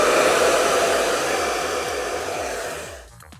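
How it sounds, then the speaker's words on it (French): A gold Aeron Professional Kaleido Vogue hair dryer runs with a loud, steady whooshing blow and motor whine close up, then cuts off near the end. "mon fameux sèche-cheveux Aeron Professional, le Kaleido Vogue en couleur gold"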